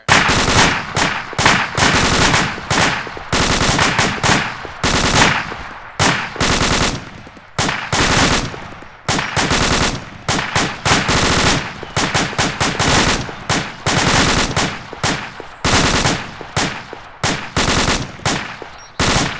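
Machine gun fire during a military firing exercise: loud, close bursts of rapid automatic shots repeating throughout, separated by short pauses, with no voices.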